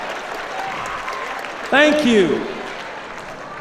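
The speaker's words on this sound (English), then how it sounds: "Let's give our teachers a round of applause." School assembly crowd applauding for teachers, a steady wash of clapping with someone briefly speaking over it partway through.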